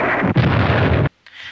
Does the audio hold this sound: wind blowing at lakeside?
no